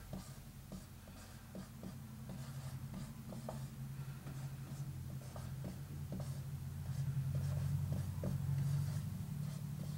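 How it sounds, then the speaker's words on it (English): Pen scratching across paper while a name is written out nine times, faint and close, in short repeated strokes with small pauses between words, no voices present. "You write your target's name 9 times or whatever, and you write your name over them"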